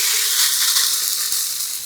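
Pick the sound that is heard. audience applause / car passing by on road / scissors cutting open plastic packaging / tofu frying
tofu frying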